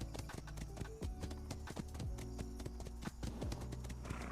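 Horse hooves clip-clop in a quick, irregular rhythm in a Royal Navy roleplay video game, close and fairly quiet, with a faint whinny mixed in.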